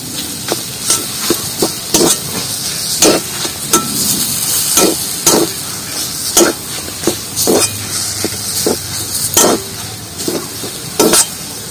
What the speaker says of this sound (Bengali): ভালো করে কষিয়ে নেব।